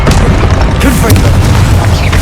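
A loud, sustained magical blast from the Confringo spell in Hogwarts Legacy, a heavy rumbling boom that fills the whole moment without pause.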